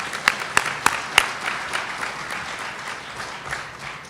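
A conference audience at a main session applauds, starting with a few sharp, distinct claps near the front, then settling into a softer, sustained wash of clapping that fades slightly.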